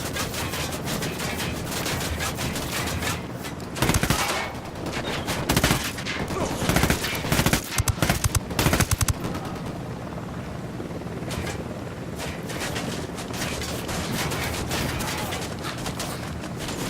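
Sustained gunfire in the tactical shooter Ghost Recon Wildlands, with dense bursts and volleys over a continuous battle roar, sharper clusters of shots standing out midway, loud and near throughout.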